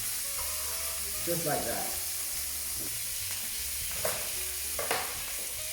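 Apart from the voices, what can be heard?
steak sizzling in a pan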